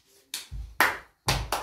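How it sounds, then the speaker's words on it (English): Children and neighbours clap for Rosie at a home birthday gathering, with a few distinct bursts of close hand claps separated by short silences. "Clap for Rosie."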